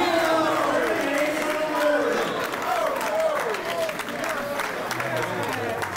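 Spectators at a 2006 Canadian poker championship table erupt in cheering and clapping, a loud sustained roar with excited whoops rising over the applause while a commentator speaks over it.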